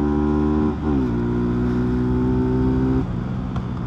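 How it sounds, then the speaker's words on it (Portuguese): A carbureted Honda Titan 150 motorcycle with its air filter removed and a loud SFX F-22 exhaust revs hard near the microphone. It holds a high, raspy engine note, dips briefly, then holds again before dropping off near the end. "Dá uma esticadinha aqui pra vocês ouvir como que tá o barulho da moto."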